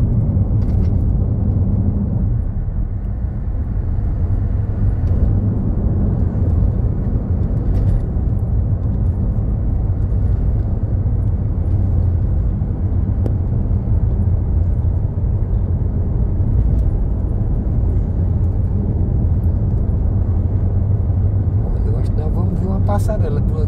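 Steady road traffic on the Linha Verde highway, with trucks rolling past in a continuous low rumble that stays loud and close throughout, with no distinct gaps.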